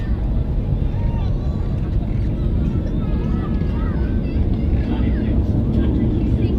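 An airliner climbs out after takeoff from Manchester Airport, its engines a loud, steady broadband roar that fills the whole stretch, with voices talking over it.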